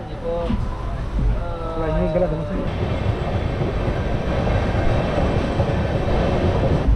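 Steady rumble and clatter of a moving sleeper class train carriage in India nearing Chennai, crowded with commuters, voices chattering throughout and a busy interior feel.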